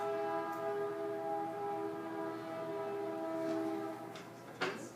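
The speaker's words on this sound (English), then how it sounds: "It's a particularly obnoxious and unusual sounding train." A loud, unusual-sounding train passes close by, its steady harsh horn-like tones sustained for several seconds before fading slightly, with a brief sharp clank near the end.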